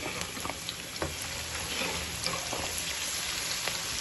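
Keema frying with garlic in a pan, a steady broadband crackle and sizzle with scattered sharper pops and faint stirring taps throughout, no voices.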